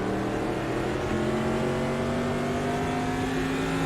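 A race car in the Automobilista racing game, running an SST car at Adelaide, holds full throttle with a loud, steady engine roar and rising tonal whine, close and continuous with no talk.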